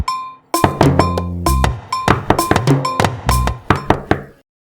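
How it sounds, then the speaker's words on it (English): Someone bangs on a door in a cartoon: a rapid series of loud, hard knocks in uneven bursts, roughly a dozen blows over a few seconds, ending abruptly in silence. "Who is this unfortunate person that knocks on my door like that?"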